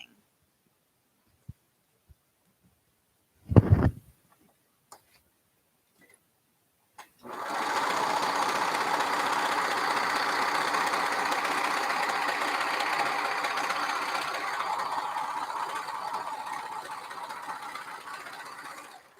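A cover stitch sewing machine runs steadily for about eleven seconds, a close, even mechanical whir. A few sharp clicks and a handling thud come first.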